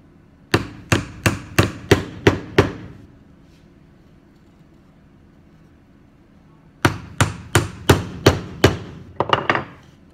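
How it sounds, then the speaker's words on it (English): Nails hammered into an egg car chassis in a quick run of six sharp strikes, a pause of a few seconds, then another burst of about eight blows ending in rapid taps. No speech. "Hold it in place as I nail it down."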